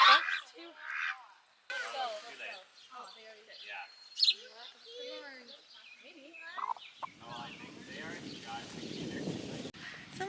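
Farm ducks call in a busy, close chorus of honks and squawks over the first seven seconds, with a person talking between the calls, then a louder rumble and scuffle of movement takes over near the end.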